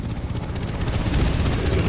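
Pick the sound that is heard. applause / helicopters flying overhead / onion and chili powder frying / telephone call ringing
helicopters flying overhead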